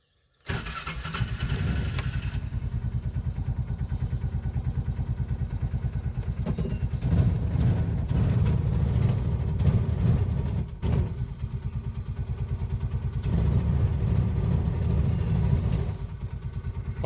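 Bobcat 3400XL side-by-side utility vehicle, a Polaris Ranger 500, cranking and catching, then idling with a steady rhythmic chug that swells a few times, close and alone.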